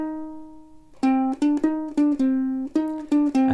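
Ukulele plucking a pop song's intro riff slowly: one sustained note rings alone, then a string of about ten short, clear plucked notes follows in a steady, moderately loud rhythm.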